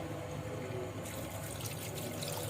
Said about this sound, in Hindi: और अब 1 कप पानी जाएगा इसमें।